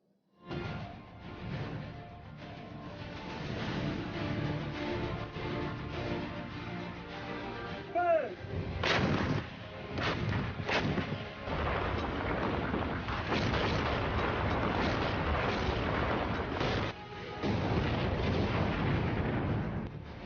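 Bofors howitzer artillery deployed in mountainous Ladakh firing, a loud, continuous wash of heavy booming rumble with sharper blasts breaking through around the middle and later in the clip.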